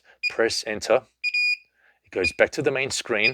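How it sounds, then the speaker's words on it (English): A high alarm on a monitor sounds as a short run of steady electronic beeps in a brief pause, with a person talking before and after it. "That's the alarm that I just engaged from the high alarm."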